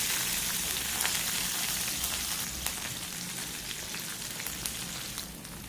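Chopped onions with red and green chilies and curry leaves frying in oil, a steady, fairly loud sizzle with faint crackles throughout and no talking.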